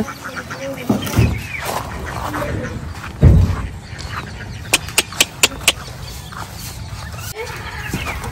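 Ducks on a farm quack and honk nearby while bathing, mixed with splashing and a quick run of sharp clicks, over an outdoor background.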